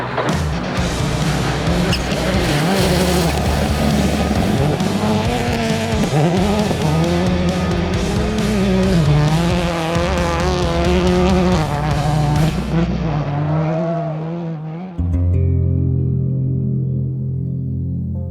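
A Subaru Rally Team USA rally car runs a stage in Oregon, its engine loud and close, revs rising and falling through gear changes before cutting off sharply near the end, leaving a lower droning tone.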